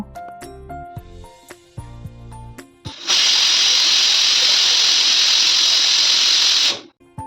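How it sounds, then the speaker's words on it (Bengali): Pressure cooker with lentils letting out a loud, steady hissing whistle for several seconds after some clinking kitchen sounds, then cutting off abruptly. "এরপর প্রেশার কুকারে তিনটে হুইসেল দিয়ে দেব"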